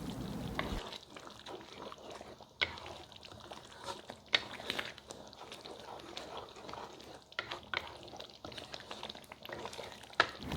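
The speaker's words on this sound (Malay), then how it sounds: "biarkan tumis lagi sampailah pecah minyak untuk kali yang kedua" Quiet sizzling and bubbling of a thick kuzi curry paste for mutton cooking in oil, with occasional stirring clinks and scrapes, no talking.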